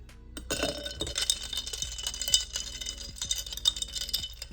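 A spoon stirs iced coffee in a cup, with ice and metal clinking against the sides in quick, irregular taps and rattles, close and fairly quiet.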